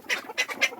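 Ducks kept on a farm alongside chickens and roosters give three quick quacks in an even rhythm, clear and moderately close with no other sound.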